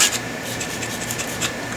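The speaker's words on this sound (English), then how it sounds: "So I'm just going to roughly scuff the panel up" Sandpaper or an abrasive pad roughly scuffs the clear coat on a panel of a 1999 Jaguar XK8, a close, continuous rasping rub with slight back-and-forth pulses over a short stretch, with no voices.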